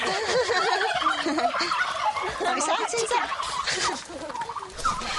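Six backyard hens clucking and squawking close by, with dense overlapping calls filling the whole stretch while a person speaks briefly over them.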